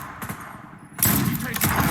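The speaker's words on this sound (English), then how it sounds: "Did you see me just shoot both those guys right in their head yet?" Gunfire in a shooter video game: a short crackling burst of shots, near and loud, with a sharper, heavier volley in the second half.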